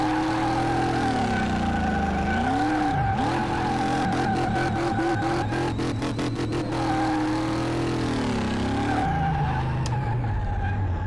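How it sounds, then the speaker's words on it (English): A 942-horsepower car drifting in Car Mechanic Simulator, loud engine drone with sliding pitch sweeps and a long run of rapid rhythmic tyre skidding squeals, continuous and close throughout. "I can drift the hell out of a car."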